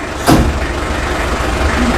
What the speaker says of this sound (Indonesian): Ini bunyi truk si Edu lagi rekaman